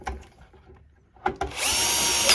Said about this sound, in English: Going to screw it down like so.